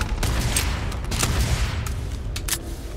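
Pistol gunfire in the video game Starfield, a few sharp shots spaced irregularly over a steady rumbling background of combat noise, with no talking.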